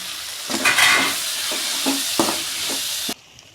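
Chopped tomatoes with salt sizzle and sauté in a hot pan as a spoon stirs them, giving several scraping strokes over a steady fry before the sound cuts off abruptly.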